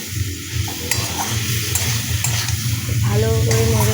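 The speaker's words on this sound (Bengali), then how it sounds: "হ্যাঁ, এবার আবার নেড়ে দেবে" Spices with Kashmiri chili powder being stirred in a hot pan for a vegetarian dish, a continuous sizzle with scraping stirs and a brief clink near the end.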